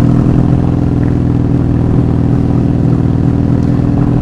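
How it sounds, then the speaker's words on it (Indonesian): A 1984 Honda Magna 750cc V-twin motorcycle idles loudly and close by, a steady deep lumpy throb with a pulsing beat and no pauses. "Orang kalau lagi sakit gigi dengar motor ini sih sebel."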